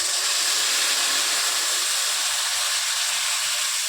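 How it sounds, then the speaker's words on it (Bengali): Water poured into a hot pan of fried potatoes makes a steady, loud hissing sizzle of steam that holds evenly from start to end, with no voice over it. "এবার জল দিয়ে দিচ্ছি"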